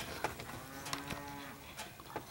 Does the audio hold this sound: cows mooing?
yes